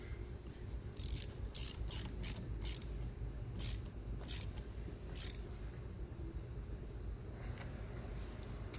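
A hand ratchet tightens the negative battery cable terminal on a Kia Forte, giving a close series of quick, crisp clicking bursts with short pauses between them and no talking.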